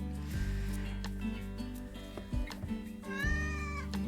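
Donna the cat meows several times close by, with drawn-out, wavering calls. The last one rises into a long, whiny tone.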